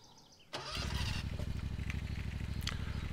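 A lawn mower engine in Lawn Mowing Simulator cranks and catches, then settles into a loud, throbbing, rhythmic idle chug right up close.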